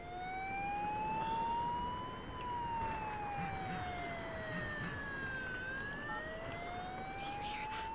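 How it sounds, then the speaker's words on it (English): Police car siren in the horror video game Crimson Snow, a steady wailing tone that rises and falls slowly over eight seconds, distant and muffled with no talking. "It sounds like the police are here."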